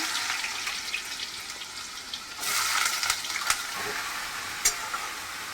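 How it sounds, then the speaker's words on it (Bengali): Mustard oil sizzling and frying in a kadai, a steady crackling hiss with a few sharp spits and stirring clatters, moderately loud and close, with no talking. "এই আমি সর্ষের তেল দিচ্ছি, ওটা আমি ছাড়ছি কড়াইতে।"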